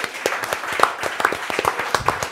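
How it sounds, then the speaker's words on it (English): An audience at a cooking demo and wine pairing event with St. Francis Winery claps in scattered, uneven applause, moderately loud and close, with no voices over it. "So can we give a large round of applause"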